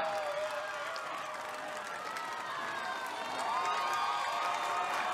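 A crowd at Australian Ninja Warrior cheers and shouts continuously as a competitor works the course, a dense roar of voices that swells louder toward the end.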